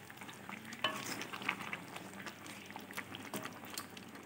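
Onions are stirred and mixed in a pan for an oil-free white chicken dish, with soft continuous scraping and light clinks of the spoon over a quiet simmer.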